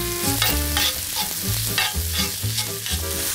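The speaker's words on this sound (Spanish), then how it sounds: "y lo remueves" Onion and garlic stirred as they fry in olive oil in a pan, a steady close sizzle with repeated scraping strokes of the spoon in a loose rhythm.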